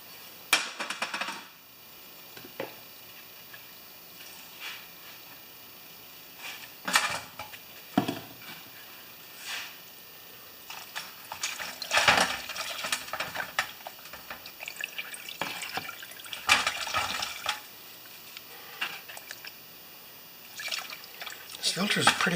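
A foam air filter from a Briggs carburetor is washed, with intermittent splashing, trickling and dripping water and occasional knocks, while someone talks over much of it.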